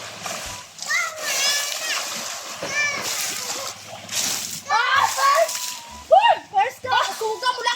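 Water splashes in a swimming pool with bursts of sloshing, mixed with children's excited voices and shouts throughout.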